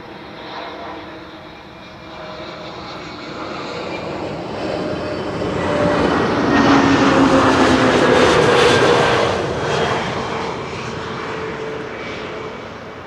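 An airliner lands on runway 06 (Kaagbaan) at Amsterdam Schiphol, its jet engine roar swelling from a steady rumble to a loud peak midway and then easing off, with no voices.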